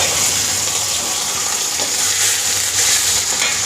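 Chopped sambar shallots frying in sesame oil, a steady, dense sizzle that holds close and even throughout with no talking.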